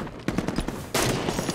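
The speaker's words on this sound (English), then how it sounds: "They have a turret up there." Turret fire in the video game Halo 5 during a big-team capture-the-flag match, a fast run of sharp automatic bursts in rapid rhythm, then a louder, denser stretch of continuous firing, close and with no talk over it.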